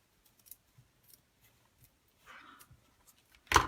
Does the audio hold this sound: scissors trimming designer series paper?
yes